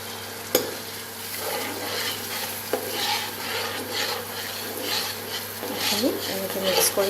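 Spice paste fries in oil for shahi paneer as a spoon stirs and mixes it, continuous sizzling with scraping strokes and occasional clinks against the pan, a voice talking over it.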